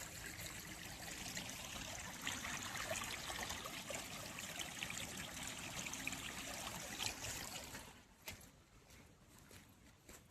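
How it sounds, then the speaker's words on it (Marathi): Continuous, soft rushing and trickling of a mountain stream flowing over rocks, steady for most of the time before easing near the end. "हे पाणी डोंगरातून आलंय."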